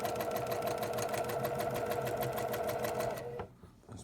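Sewing machine stitching a back stitch on a quilt, a fast steady mechanical whirring with rhythmic needle ticks, close and loud, that stops abruptly near the end.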